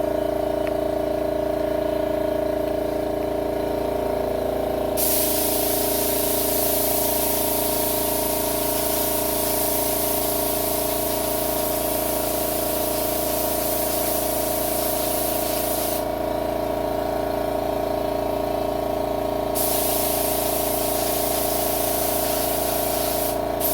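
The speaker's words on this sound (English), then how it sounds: "Again, apologize for the air compressor." Workshop air compressor running steadily and loudly throughout, a constant hiss with a low motor drone, beside a 1959 Ford 300 being restored.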